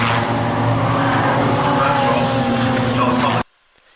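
BMW production race cars at Brands Hatch on the final lap give a continuous, loud engine roar with talk mixed in, cutting off abruptly near the end.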